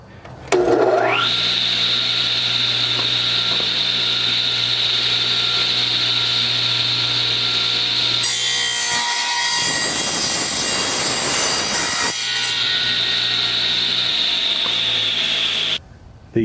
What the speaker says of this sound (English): Now I've got to do a lot of sawing.